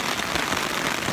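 Heavy rain pours down steadily onto an umbrella outdoors, a dense continuous patter filling the whole brief moment.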